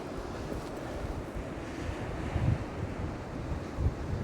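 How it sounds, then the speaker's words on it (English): Strong wind buffeting the microphone on the beach at Godrevy, a constant low roar with gusts swelling louder, waves faintly mixed in, no voices. "that wind's picked up quite strong now"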